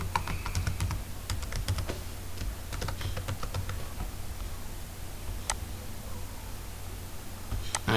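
Password typed on a computer keyboard: quick irregular bursts of light clicking keystrokes, close and moderately quiet, with a few isolated taps after a pause and no talk.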